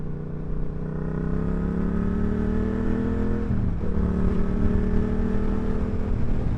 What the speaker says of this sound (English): Because of that deepness of the way the engine is, because of it being a twin, it just sounds evil.